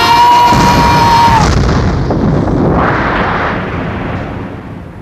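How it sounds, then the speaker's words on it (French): A loud, deep tactical nuclear weapon explosion over the Nevada desert rumbles and roars, then slowly fades, with a steady tone cutting off early in the blast. "L'explosion hier d'une arme nucléaire tactique au-dessus du désert du Nevada."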